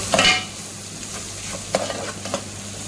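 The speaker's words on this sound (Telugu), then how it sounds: "పసుపు అంటే ఇది చేపలది అనమాట వేస్తున్నాను దీన్ని బాగా కలుపుకోవాలి" Turmeric being stirred into a fish curry in a pan: a scraping stir at the start, then a few softer scraping strokes over a faint sizzle, close and fairly quiet.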